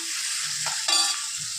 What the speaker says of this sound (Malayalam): അപ്പം ഇത് നന്നായിട്ടൊന്ന് വഴണ്ട് വരട്ടെ.